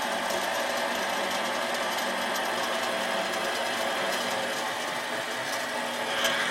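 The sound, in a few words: metal lathe cutting threads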